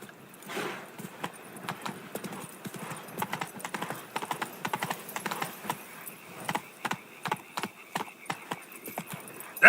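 Roach, the horse in The Witcher video game, gallops with a quick, steady clip-clop of hooves that rises in intensity, heard close and alone with no talk over it.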